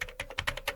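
A computer keyboard is typed on in quick, light clicks at an irregular rhythm. The keystrokes are close and fairly quiet, and no voice is heard.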